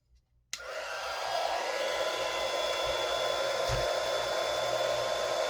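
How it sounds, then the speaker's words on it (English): A heat gun switches on with a click and blows with a steady, even whoosh and hum while softening glued hearts on a wooden farmhouse sign, close and constant; no talk. "So I'm going to take my heat gun"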